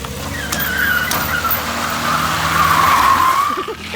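A car engine revs hard as its tires squeal and skid in a long, loud continuous screech, close by and running nearly the full length, the engine reportedly run on vape juice in place of engine oil.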